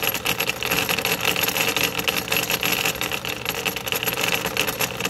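An electric motor drives a train of MDF gears, giving a steady whirring drone with a faint rattling grind that holds constant throughout, with no talking.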